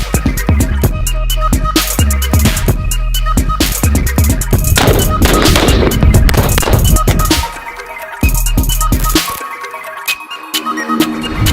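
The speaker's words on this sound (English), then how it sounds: "we are going to Corona, California to test out the military edition Rezvani tank and shoot at it with weapons" Weapons fire at an armored military-edition Rezvani tank outdoors in Corona, California, a loud rapid series of sharp gunshot cracks and bursts that thins out toward the end.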